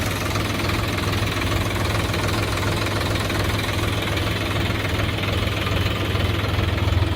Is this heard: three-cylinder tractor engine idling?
yes